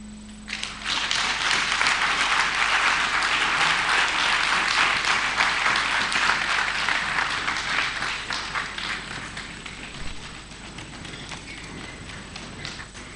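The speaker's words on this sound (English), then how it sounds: "I believe the applause could be done better for our guest speaker." A large audience at a memorial lecture and special university congregation applauds steadily, the dense clapping swelling quickly and holding for several seconds before thinning out toward the end.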